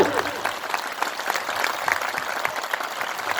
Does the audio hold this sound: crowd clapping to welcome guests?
yes